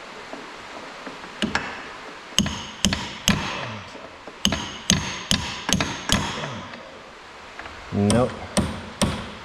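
Hammer strikes on brake components being fitted on a Z31 300ZX big brake kit with Brembo calipers, a series of sharp metallic taps at uneven intervals, close and fairly loud, with a brief spoken word.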